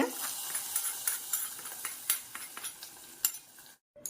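A steady crackling sizzle of spices and two chillies frying in hot oil for a Tamil greens kadaiyal, with occasional stirring scrapes, close and fairly quiet, cutting off briefly near the end.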